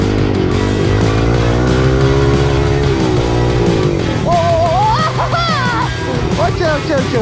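A dirt motorcycle circles at low speed to warm up before a jump, its engine droning steadily and loud up close with rising revs, while someone talks over it.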